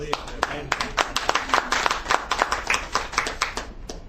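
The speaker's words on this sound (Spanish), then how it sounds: "Aplausos." A small group clapping at a Bible study session, with separate sharp claps clearly distinct in a loose uneven rhythm, moderately quiet and close, and a voice faintly underneath.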